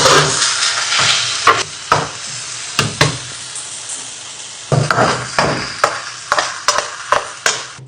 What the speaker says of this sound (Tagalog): Ilagay na natin yung ginawa nating sauce. Haluin lang. Halo ng halo hanggang sa maluto.